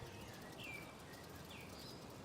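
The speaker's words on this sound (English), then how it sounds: "Yes, bird." Soft bird calls in a video game, two brief chirping whistles over a quiet ambient background, faint and somewhat distant, with no talking.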